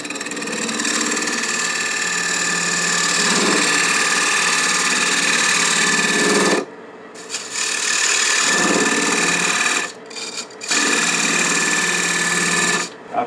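A wood lathe cutting a cove into a turned wooden picture frame produces a loud, sustained whirring scrape of the tool on the spinning wood, cut off by a few brief pauses before resuming.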